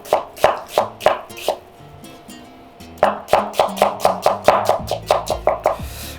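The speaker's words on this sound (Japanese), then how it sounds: "玉ねぎはスライスです。" A kitchen knife slices an onion for a quiche filling on a cutting board, giving quick rhythmic chops in two bursts with a short pause between, close and crisp with no talking.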